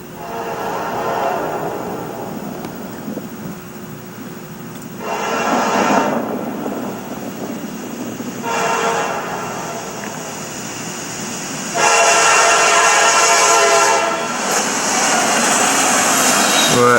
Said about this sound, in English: And now trains are running at a much more brisk pace through downtown Suffolk now.